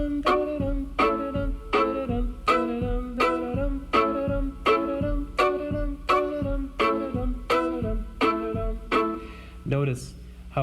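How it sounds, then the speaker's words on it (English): Fiddle playing Boil 'em Cabbage Down with chunk rhythm backup: sharp, short down-bow chords struck on the offbeat, a steady clipped pulse of about a dozen strokes, played alone. "So Boil 'em Cabbage Down with chunks would sound like this."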